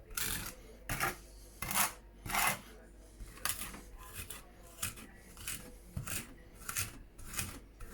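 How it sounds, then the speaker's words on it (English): Garlic being crushed with salt into a paste, a knife blade scraping rhythmically against a cutting board, repeated gritty rasping strokes close up, fairly quiet. "Your salt will be working as sandpaper. It's gonna grind your garlic into a paste."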